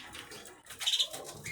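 A noisy cock bird, a green ringed cage bird in moult, gives a short bright chirping call near the middle, close and fairly loud above a soft rustling background.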